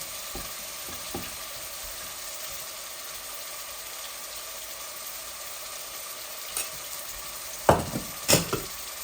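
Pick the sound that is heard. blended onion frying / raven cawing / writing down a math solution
blended onion frying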